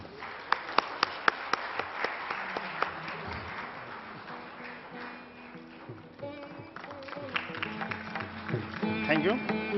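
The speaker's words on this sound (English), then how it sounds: "please carry this vote of thanks with a big round of applause" Audience at a corporate law conference hall clapping, a burst of scattered claps that thickens into sustained applause, with voices talking over it throughout.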